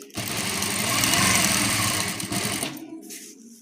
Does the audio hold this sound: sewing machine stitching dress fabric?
yes